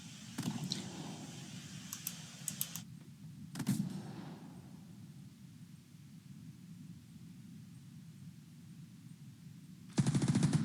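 Gunfire in the Second Front wargame, a scenario based on ASL: a few short, sharp automatic bursts early on, a quieter stretch of low rumbling ambience, then a loud burst at the end.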